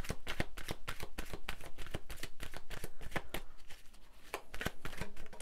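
Tarot cards shuffled by hand in a rapid run of crisp, riffling flicks, close and clear, with a short pause in the shuffling before it picks up again.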